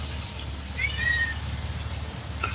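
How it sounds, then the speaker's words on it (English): A pet cat named Buster gives a single short, clear meow close by, rising then falling, over a low steady background hum. "Such a cute little cat."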